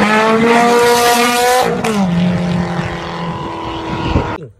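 A loud, close engine whine rises and then drops sharply in pitch, like a racing car speeding past, with a brief squeal near the end before cutting off. It accompanies a red-and-black toy race car.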